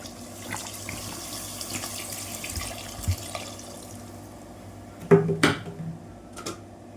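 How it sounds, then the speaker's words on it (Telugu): Water splashes into a metal pressure cooker holding chicken pieces in a few bursts near the end, over a low background hum; no one speaks. "ఇదిగోండి ముక్క ములిగేలాగా మనం వాటర్ అయితే పోసుకుందాం"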